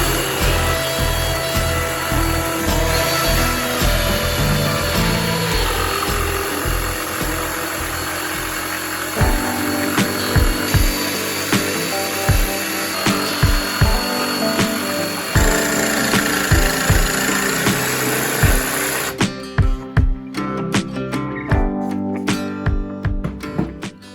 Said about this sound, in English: just pop the holes, and we're going to drill those with a jigsaw